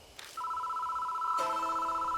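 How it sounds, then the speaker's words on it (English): An old phone in the game Spirit Hunter: Death Mark starts ringing suddenly, a loud, sustained electronic bell tone that rises into a second, richer ring partway through, with no talk. "The phone starts to ring out of nowhere."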